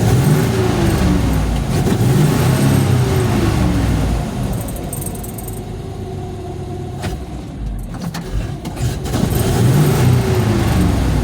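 A cold engine idles steadily and low, a continuous rumble that dips slightly in the middle and returns, with no talk over it.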